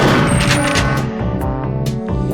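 Loud, close gunshots from a Perfect Dark shooting-range training session fire in quick overlapping bursts with booming reports, continuing steadily throughout.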